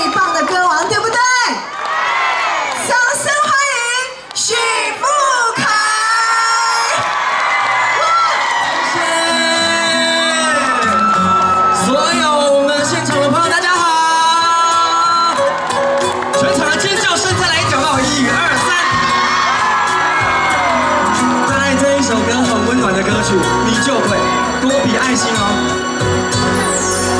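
At an outdoor festival concert in Shetou, Changhua, a large crowd screams, whoops and cheers loudly and continuously, with music and an amplified voice mixed into the din.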